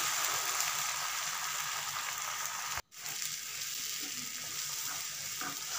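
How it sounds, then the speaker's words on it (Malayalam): Beaten eggs seasoned with salt and pepper powder frying in a pan, a loud continuous sizzle with one abrupt brief dropout partway through before the sizzling resumes. "കുറച്ച് മുട്ട പാനിലേക്ക് ഒഴിച്ചെടുക്കണം"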